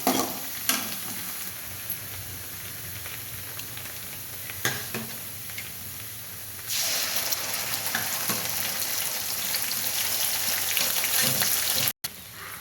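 Onions sizzle and fry in a pan for menthi koora pappu while being stirred, with a steady crackle, occasional scraping knocks, and a louder burst of sizzling in the second half.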